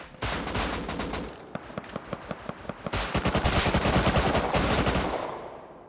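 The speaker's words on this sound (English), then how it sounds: "I'm just getting shot by everybody, aren't I?" Rapid gunfire in the survival game Rust, a dense burst followed by a steady run of evenly spaced single shots, then a heavier sustained automatic volley that fades out, loud and close with no talking.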